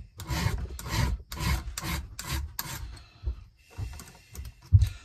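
A file rasping across a Homelite chainsaw chain and rakers, steady rhythmic back-and-forth strokes up close, about six quick passes then slower, sparser scrapes.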